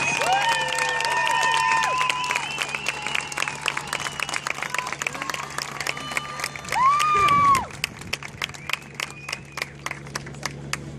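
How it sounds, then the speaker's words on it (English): A crowd at a Little League regional tournament opening ceremony applauds and cheers for young state champions, with whistles and a shout over steady clapping that thins into scattered claps; a low hum runs underneath. "Please give these young champions a big Little League round of applause"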